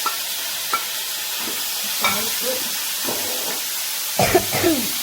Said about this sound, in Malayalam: തക്കാളിയും കൂടി ഇട്ടിട്ട് നമുക്ക് നല്ലോണം വഴറ്റിയെടുക്കണം